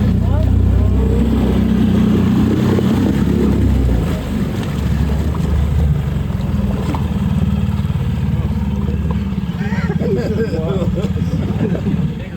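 Boston Whaler motorboat running on open water, its outboard engine giving a loud, steady drone with wind and hull noise throughout, while people talk over it.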